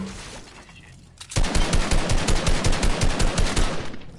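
Rapid automatic gunfire in a video game breaks out suddenly after a quiet moment, then a loud, close, evenly spaced burst of shots continues to the end.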